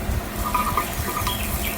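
Yellow lentils are rinsed in water, a close, steady splashing and trickling of liquid with small sloshes, no voices.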